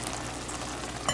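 Tomatoes with chopped shado beni and garlic pimento cook down in a pan for Trinidad saltfish, giving a steady close sizzle and frying hiss with a brief louder crackle near the end.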